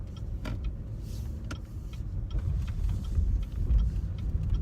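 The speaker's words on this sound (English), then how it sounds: "Time to go over some railroad tracks." 2018 Cadillac XTS driving over railroad tracks, heard from inside the cabin as a quiet low road rumble with a few soft, sharp thumps from the tracks.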